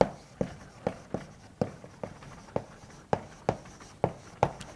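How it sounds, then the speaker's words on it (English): Chalk or marker strikes a board during a lecture in sharp, regular taps and short strokes, about a dozen evenly spaced hits, close and clear with no talking. "So I'll just write for each added edge"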